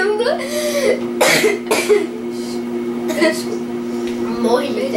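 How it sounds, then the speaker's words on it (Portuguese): Several sharp coughs from laughing so hard burst out amid laughter-like vocal bursts, close to the mic over a steady electrical hum. "que tô tossindo de rir"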